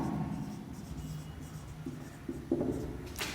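Chalk or marker strokes on a classroom board during an organic chemistry lesson, a steady scratchy scraping with short separate strokes and a few sharper taps near the end, fairly close and with no voice over it.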